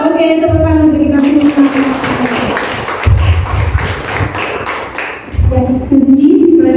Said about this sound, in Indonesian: Oke, tepuk tangan bagi kami.